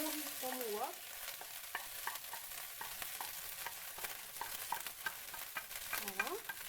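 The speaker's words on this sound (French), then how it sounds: "Donc je vais mettre mon riz dans mon wok." Cooked rice stir-fried in vegetable oil in a wok for Cantonese fried rice gives off a steady close sizzle, broken by repeated scraping stirs with no talking.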